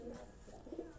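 A pigeon coos softly, a low murmuring call at fairly close range against a quiet background.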